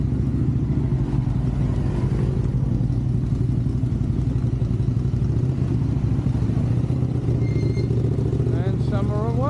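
Motorcycles roll in to a Wednesday wheelie meet, their engines a steady, close rumble with some revving and clatter, mixed with crowd noise throughout.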